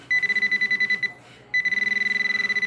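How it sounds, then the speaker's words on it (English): A metal detector beeps over gold in a small vial of paydirt, sounding a rapid pulsing electronic tone, a brief pause, then another fast run of beeps, close and clear. "Something's setting off the detector in that vial."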